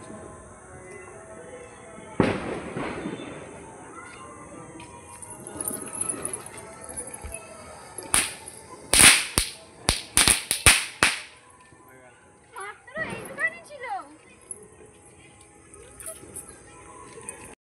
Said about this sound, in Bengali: দেখো আমার দাদা চটপটি ফাটাচ্ছে হাতে করে।